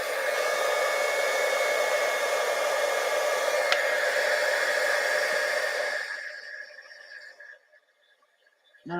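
A heat gun blows steadily, loud and close, as gold embossing powder is heated, a continuous breathy roar holding for about six seconds before it winds down and cuts off into near silence.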